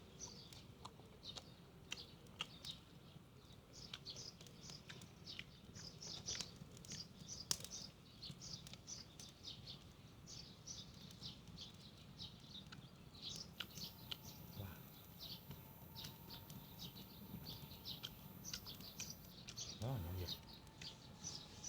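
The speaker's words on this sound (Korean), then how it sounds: "거기에 새소리까지 기가 막혀요" Birds chirp and tweet steadily throughout, a bright chorus over a low, constant background hiss.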